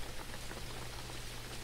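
Steady rain in the Jalopy driving video game, a dense even hiss of falling drops with a faint low hum beneath, continuous throughout with no voices.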